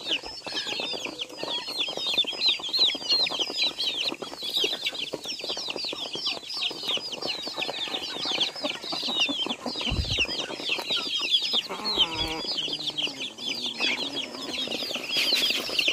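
Rhode Island Red chickens cluck steadily and close by, a dense, continuous chorus of overlapping clucks with occasional wing flaps and rustling, no voices.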